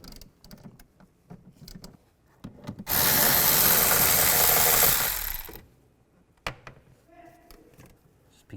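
A power tool with a T30 socket backs screws out of a 2003-2010 BMW X3 engine bay, a steady loud whir lasting about three seconds, framed by scattered clicks, rubs and handling noises before and after.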